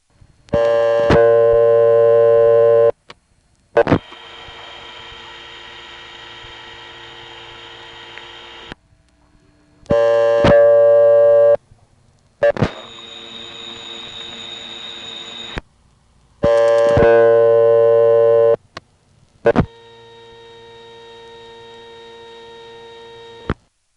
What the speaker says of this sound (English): here are a number of calls where we just dial 7, listen to the carrier noise for a second, and hang up